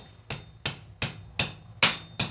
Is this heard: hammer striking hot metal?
yes